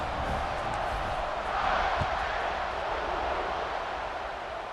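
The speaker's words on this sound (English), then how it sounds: "this crowd is buzzing after that last score" Stadium crowd in College Football 26 buzzing after a touchdown, a continuous dense roar of cheering fans that swells slightly midway and stays loud and steady throughout.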